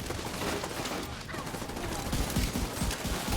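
Rapid gunfire in The Division 2 during a match in the Union Arena, dense overlapping shots and bursts filling the whole stretch, loud and close, with a background voice talking.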